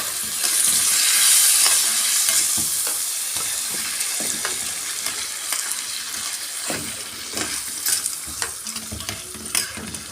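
Tomato sauce hits a hot pan and sizzles steadily while a spoon stirs and scrapes in irregular strokes, up close and with no talking, in a home kitchen making Egyptian rice kofta.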